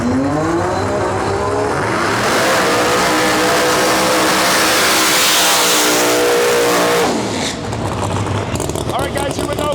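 Drag racing cars in an Outlaw versus Extreme elimination round, including a Toyota Celica, roar loudly as engines rev and climb in pitch through the launch, then fade away, under continuous commentary.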